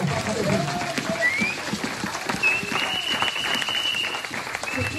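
A church congregation applauds and cheers for Jesus, a steady wash of clapping from many people in a hall with voices mixed in and a brief whoop above the crowd.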